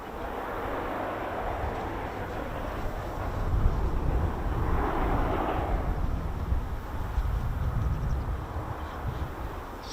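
An F-35 Lightning jet engine spools, a distant roaring rumble with a broad wash of noise that swells midway through and stays steady, heard outdoors alone with no speech.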